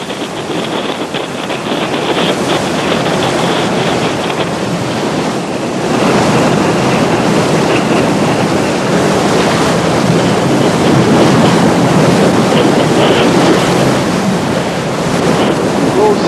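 Ocean waves and strong wind roar steadily around a sailing yacht during an offshore race, with loud wind buffeting the microphone and continuous surf wash throughout. No voices are heard.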